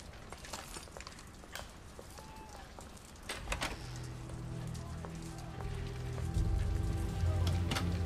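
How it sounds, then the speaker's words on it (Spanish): Rain in the video game The Order: 1886, a steady patter of drops on hard surfaces that grows thicker and louder toward the end, with scattered clicks and no talking. "Sigue lloviendo."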